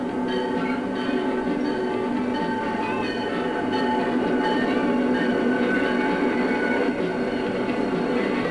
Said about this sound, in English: Freight trains are used to carry all kinds of heavy loads, and they are the workhorses of America's rails.